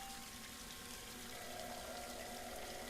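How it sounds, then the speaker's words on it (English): Water running steadily from a tap into a drain, a continuous soft hiss with no talking. "Okay, so the water is working."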